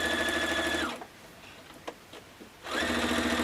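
A sewing machine runs steadily while sewing the last seam of a diamond-pattern Christmas tree skirt, stopping for a quiet pause with faint clicks, then starting up again at the same even hum.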